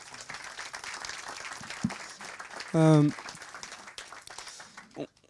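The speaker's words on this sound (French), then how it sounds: "Je pense qu'on peut vous applaudir." Audience applause at a business morning event on artificial intelligence, a moderate patter of clapping with a brief tonal beep partway through and some voices underneath.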